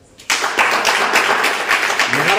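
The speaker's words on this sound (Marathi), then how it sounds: "टाळ्या वाजवा एकदा." After a brief quiet moment, an audience at a devotional abhang gathering bursts into loud, close clapping, a dense rhythmic patter of many hands that carries on steadily to the end.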